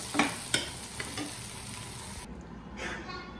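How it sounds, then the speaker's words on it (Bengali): Fried bitter gourd scooped from a pan into a bowl: a couple of sharp scraping clinks of a spoon against the pan over a faint sizzle, then a softer shuffle as the food settles. "আমার করলাটা ভাজি হয়ে গেছে আর আমি একটা বাটিতে উঠিয়ে নিচ্ছি"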